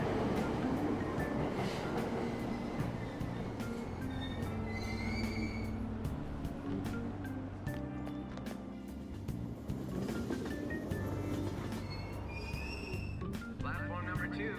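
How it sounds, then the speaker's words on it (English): Train departing a station platform in the Persona 5 video game, a continuous rumbling rail drone with faint wheel squeal, steady and close, under a platform announcement voice and game music. "Train doors are now closing. Please stand back."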